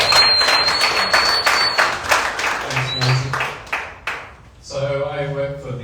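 Audience applause welcoming a speaker from a brain cancer research centre at an event, a dense burst of clapping through most of the span that fades out as a voice begins talking.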